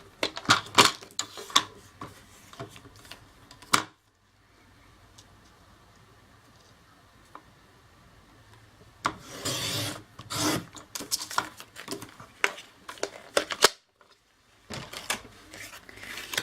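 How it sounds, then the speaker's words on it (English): A paper trimmer slices through card stock in repeated rasping, scraping strokes, close and fairly loud, with bursts of cutting separated by quiet pauses. "So I'm just going to use my paper trimmer for that."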